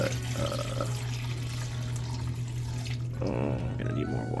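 Steady rushing of hot water running from a tap, continuous and close, with a low hum underneath and a brief clatter near the end.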